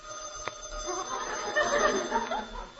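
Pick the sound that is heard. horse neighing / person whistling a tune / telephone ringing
telephone ringing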